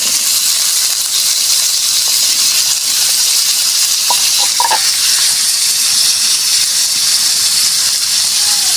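Spine gourd and potato pieces frying in hot oil with a five-spice tempering: a loud, steady sizzling hiss that holds evenly from start to finish.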